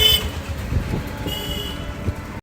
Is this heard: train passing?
yes